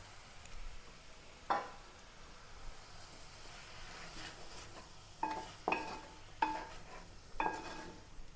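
Tomatoes and green chillies are dropped into a hot pan, a quiet continuous sizzle broken by several sharp clinks and scrapes of a utensil against the pan.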